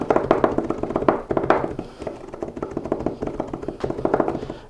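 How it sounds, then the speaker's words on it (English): Rapid, uneven tapping of a blade chopping against a wooden board, a dense run of close knocks with brief pauses. "When I tilt it slightly, I get a much better chopping action"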